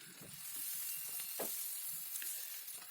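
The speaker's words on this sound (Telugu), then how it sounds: "గోల్డెన్ బ్రౌన్లోకి వచ్చే వరకు వేయించుకోవాలి." Fenugreek leaves frying in a hot oil tempering for a beans curry, giving a soft, steady sizzle and hiss with a few faint stirring touches, fairly quiet throughout.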